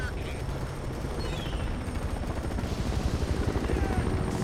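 A helicopter in the Fear 3 video game beats steadily with a fast rotor chop, mixed with bursts of gunfire and battle noise, while people talk over it.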